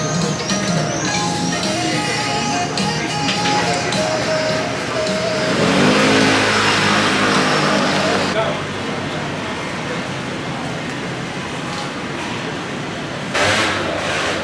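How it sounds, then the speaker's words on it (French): Scooter engine starting and revving in a narrow street in Naples, a buzzing motor that rises and fades amid street noise, with people talking nearby. "il y a un scooter qui se démarre."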